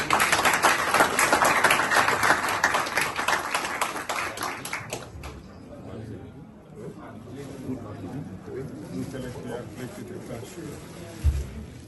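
At a bar school ceremony at the Fort-Liberté courthouse, an audience applauds the bar president with steady clapping that gradually thins and fades, and a speaking voice carries over the dwindling applause.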